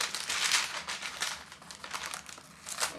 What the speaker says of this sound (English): peeling back the wrapping and lifting up the protective pad with the Charbonnel and Mrs branding on it